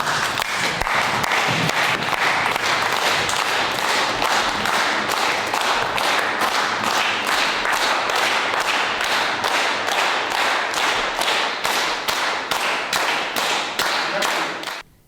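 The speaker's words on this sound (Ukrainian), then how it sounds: "І ми сьогодні давайте поаплодуємо Леоніду" Audience at a memorial evening for Leonid Tverdokhlib applauding in a hall, sustained dense clapping that settles into rhythmic unison beats before stopping abruptly.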